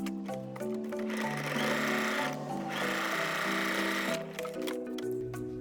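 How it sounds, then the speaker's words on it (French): A sewing machine stitches along the first fold of a pinned bias binding, a close, steady mechanical whir that speeds up and slows in short runs, heard alone without talk. "vous pouvez venir piquer sur la première pliure de votre biais"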